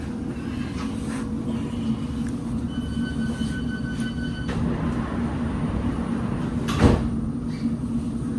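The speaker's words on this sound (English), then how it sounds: "This is a semi-fast Metropolitan Line train to Cheshire" Inside a moving London Underground Metropolitan line train near Barbican, a steady low rumble and rattle continues, with a sharp clunk near the end and faint tonal whines above.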